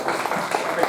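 An audience at a conference session applauds a speaker, a brief burst of dense clapping from many hands, moderately loud and continuous.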